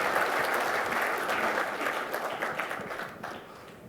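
Audience at a conference panel on consumption gives a round of applause, a dense, even patter of clapping that gradually thins and fades toward the end.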